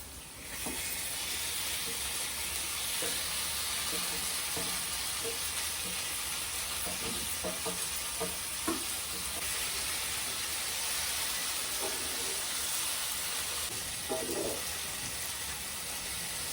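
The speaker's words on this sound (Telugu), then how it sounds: "ఉల్లిపాయ వేగిపోయిందండి, ఇప్పుడు ఇవి వేసేద్దాం ఈ ఫిష్." Fish pieces fry in a pan with already browned onions, making a loud, continuous sizzle throughout, with scattered clinks and scrapes of gentle stirring.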